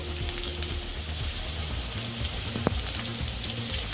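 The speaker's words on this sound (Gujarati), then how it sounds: "જો ડુંગળી ચડે છે." Onions frying in a pan for homemade Maggi noodles, a steady close crackling sizzle with a brief clatter partway through, with no talking.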